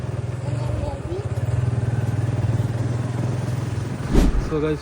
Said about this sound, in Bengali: অনেক বছর পরে বাংলাদেশে বাইক চালাই রাতে